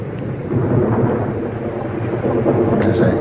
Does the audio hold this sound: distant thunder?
yes